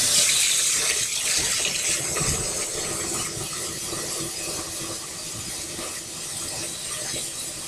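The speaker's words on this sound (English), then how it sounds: "You put some water in your dishes so that they don't crust up." Water runs from a kitchen tap into dirty dishes in the sink, a loud, close, continuous gushing splash that holds steady throughout with no voices.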